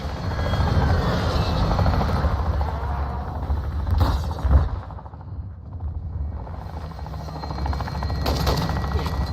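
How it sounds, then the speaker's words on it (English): A friendly gunship helicopter arrives in Call of Duty MW2, its steady rotor drone running loud throughout, with bursts of gunfire and a heavier boom cutting in, then the rotor noise swelling again. "Friendly gunship is inbound."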